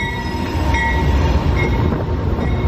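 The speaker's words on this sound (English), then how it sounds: "literally 1 minute later, our train is coming." The Amtrak California Zephyr pulls into a station with a loud, continuous rolling rumble of railcars and faint wheel squeal close by.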